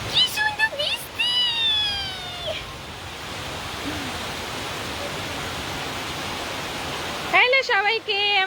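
Heavy rain falls outside as a steady, dense hiss that runs through most of the stretch, with a cat meowing near the start and voices at the beginning and end.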